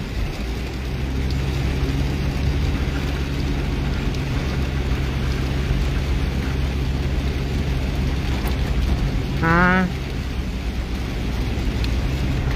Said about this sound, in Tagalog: naririnig ko yung ulan